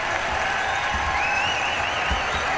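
Basketball arena crowd applauding and cheering for the South Dakota State Jackrabbits, a steady roar of clapping with whistles and shouts throughout.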